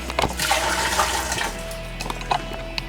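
Brown water drains from an old water heater being replaced, a steady rushing, splashing flow for about a second and a half that then eases into quieter trickling with a few small knocks.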